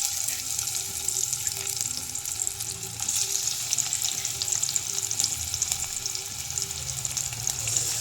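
Chopped onion sizzling and hissing in hot oil in a home kitchen pan for Mysore papu curry, a steady close crackle with no pauses and no voices.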